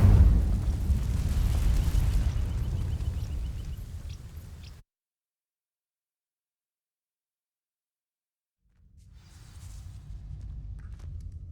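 Incendio fire spell cast on dry vines in Hogwarts Legacy, a loud roaring burst of flame that fades out, followed by silence and then a quieter rumble.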